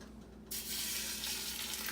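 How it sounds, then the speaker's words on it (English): A sudden burst of steady, hissing sizzle as food hits hot olive oil in a pan, close and continuous. "When you hear that sizzle,"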